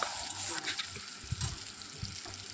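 Onions and chillies fry in soybean oil in a pan. The sizzle is broad and steady, and soft knocks and stirring scrapes from a spoon in the pan come through it, with no talk.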